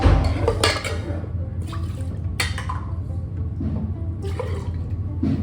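Food items being washed under a running kitchen tap, with a steady rush of water and splashing that rises and falls as things are rinsed, heard up close with no talking.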